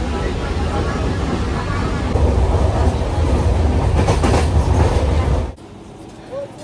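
Passenger train running on the line from Katwa towards Bardhaman, a steady loud rumble with rhythmic clickety-clack heard from inside the carriage, cutting off abruptly near the end.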